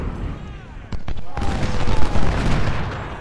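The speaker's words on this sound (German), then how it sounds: "Und Feuer! Los, feuert!" Massed musket volleys in the American Civil War strategy game Ultimate General: Civil War, at the Rio Hill battle, with sharp gunshots followed by dense overlapping rattling fire and booming battle noise, loud and continuous.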